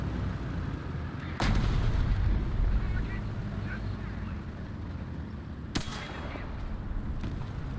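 A tank cannon fires shells in a tank video game, two sharp booming blasts several seconds apart over a constant low rumble of engine and ambient noise.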